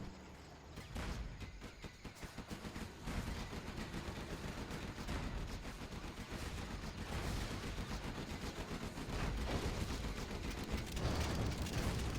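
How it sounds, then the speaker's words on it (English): Artillery barrage explosions in the strategy game Command & Conquer Generals Zero Hour, a dense continuous rumble of blasts and crackling gunfire that swells steadily louder across the whole stretch, with no talking. "So here's where the artillery barrage landed."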